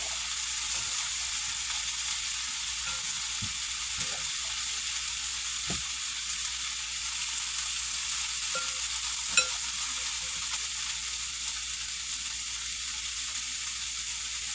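Ground beef cooks in a pan for a casserole, seasoned with salt and pepper, giving a steady, moderate sizzle with a few soft scrapes and stirring knocks scattered throughout.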